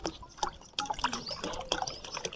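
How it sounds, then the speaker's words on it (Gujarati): Water is poured into a clay pot, producing quiet, irregular splashes and trickling gurgles in short bursts close by. "આમાં પાણી ભરવાનું છે"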